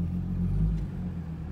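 Ford Mustang with a muffler delete idling and rumbling low, a short deep exhaust swell rising and easing back, heard close and without talk.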